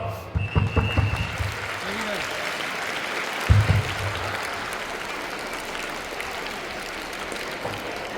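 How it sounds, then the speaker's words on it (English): Applause at a school Children's Day celebration rises after a few close low thumps and continues as a broad, even wash of clapping from a sizable audience, with a brief voice near the start. "Please welcome him with a big round of applause"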